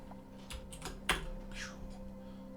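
A computer keyboard with deep-popping keys is typed on in short bursts, several close, crisp keystrokes with one sharper clack, over a faint steady background hum.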